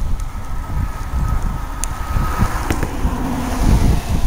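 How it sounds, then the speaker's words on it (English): Wind blowing across an open prairie at Baker Wetlands during a spring burn, a steady loud low rumble of gusts buffeting the microphone with a few faint distant ticks. "The wind is coming from the southeast, blowing towards the northwest."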